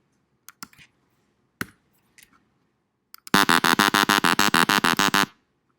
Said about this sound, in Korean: 왜 띠띠띠 소리는 나는지는 잘 모르겠어요